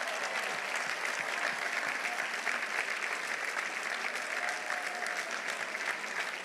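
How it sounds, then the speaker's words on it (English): A large crowd applauds honorees at a student ceremony, a steady, dense wash of clapping that holds at an even level throughout. "give them a round of applause"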